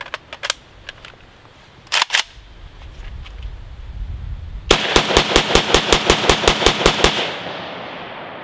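A Riley Defense AK47 rifle fed from a surplus magazine fires a few isolated sharp shots, then a rapid, evenly spaced burst of about a dozen loud, close reports that stops abruptly.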